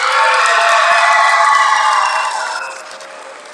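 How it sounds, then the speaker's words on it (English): Loud, bright audience applause mixed with cheering and crowd noise at a school Pan African event, sustained for a few seconds before tapering off. "Give them another round of applause."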